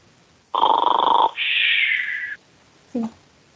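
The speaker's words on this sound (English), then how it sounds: "The mood is showing on the EV3 brick, right, making the snoring sound." A LEGO EV3 robot brick plays a snoring sound through its small speaker: two long buzzy electronic tones back to back, then a short blip, loud and alone.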